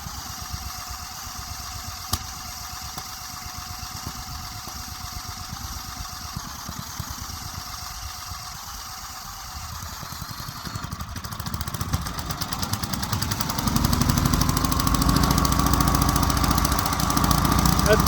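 A small gasoline engine fitted with a Craftsman pull starter catches and runs, its steady mechanical drone rising and growing louder in the second half after quieter low rumbling at the start.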